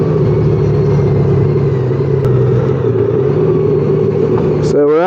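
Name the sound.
riding a Honda Goldwing motorcycle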